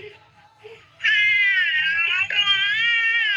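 A cat meows loudly and close by in one long drawn-out cry, briefly breaking, then continuing, after a couple of soft earlier sounds.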